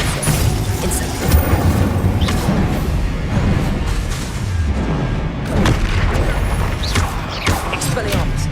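Spell blasts such as Repulsor and Incendio rumble and crash in Hogwarts Legacy combat, with repeated booming impacts and crackling bursts layered over game sounds and voices.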